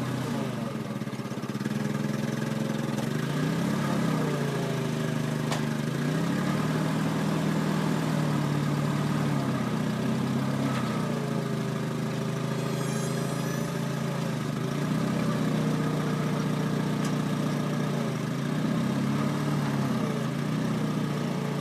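A gasoline-powered 4,000-pound Towmotor 350 forklift with manual transmission and hard rubber tires idles steadily at close range, a constant mid-pitched engine drone with no talking.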